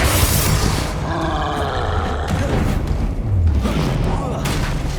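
Confringo fire-blast spell in the video game Hogwarts Legacy, a booming roar amid battle noise, with a voice talking over it.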